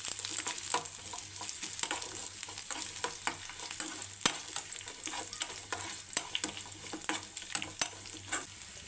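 Chopped garlic fries in a pan, a steady close sizzle punctuated by frequent sharp clicks and scrapes of stirring.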